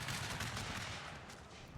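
Infantry musket volleys in the Shogun 2 Fall of the Samurai battle game, Belgium against Saxony, a dense crackling burst of overlapping gunfire heard alone and loud for a short stretch.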